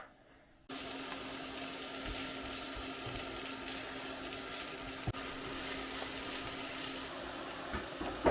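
Onion frying in a pan for a cabbage pie filling, a steady close sizzle that starts abruptly after a short quiet moment and holds at an even level, with a faint tap near the end and no voices.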